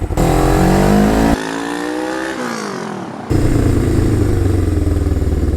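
A motorcycle engine, a Suzuki GS 500 or an IZh, roars loudly up close, shifting pitch as it accelerates through gears, easing off briefly, then revving hard again while riding through a town.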